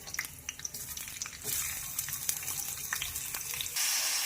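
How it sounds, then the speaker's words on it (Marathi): Chopped vegetables frying in a pan on a gas flame for vegetable uttapam, a steady soft sizzle with light stirring scrapes, rising a little louder toward the end. "ह्या भाज्या फ्राय करून घेणार आहोत"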